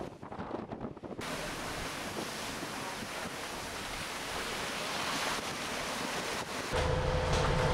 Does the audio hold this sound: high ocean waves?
yes